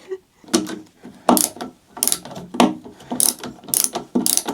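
A hand ratchet tool turns long screws during a bedroom makeover, giving bursts of close, loud clicking in quick repeated strokes, each burst a run of sharp pawl ticks with short pauses between.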